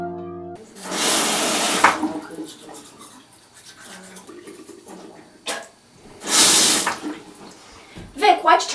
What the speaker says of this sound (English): why'd you turn the water off while you were brushing your teeth?